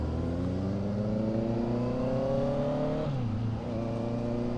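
Honda scrambler-style motorcycle engine running steadily and close by, its note rising smoothly for about three seconds before dropping slightly, with a constant droning hum throughout.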